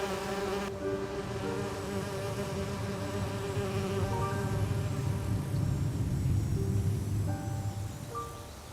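A swarm of bees buzzes steadily in an Agatha Christie: And Then There Were None adventure game on the Nintendo Wii, a dense continuous drone with tonal game music layered over it.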